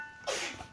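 A single sharp sneeze, fairly close and brief, followed by a faint breath.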